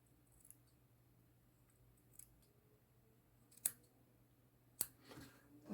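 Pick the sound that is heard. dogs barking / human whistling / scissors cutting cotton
scissors cutting cotton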